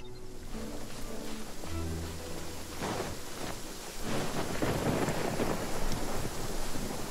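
Stormy weather in the Genshin Impact game world near Dragonspine, with rumbling thunder and a steady rush of rain and wind that swells louder partway through, heard alone without speech.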